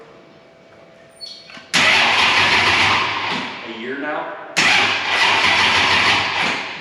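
A car engine on its first start of the year cranks slowly for a few seconds, catches with a sudden loud roar, then settles into a rough running note and flares again, with people talking nearby.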